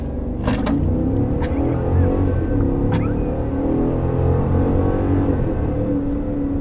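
A 2022 Cadillac Escalade Sport Platinum with automatic transmission and four-wheel drive accelerating hard from 0 to 60 mph, a steady loud engine roar and road rumble heard from inside the cabin with a few clicks.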